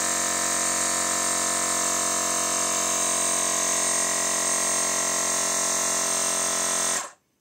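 A Xiaomi electric air pump inflates a tyre with a loud, steady, high-pitched motor whine that holds without change for about seven seconds, then cuts off abruptly, leaving near silence.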